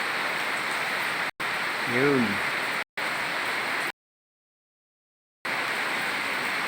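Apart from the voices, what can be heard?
rain falling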